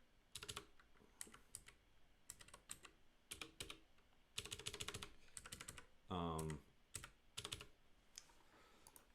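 Code is typed on a computer keyboard during a live coding session, with rapid bursts of close, crisp key clicks separated by short pauses and one brief louder buzzing tone partway through.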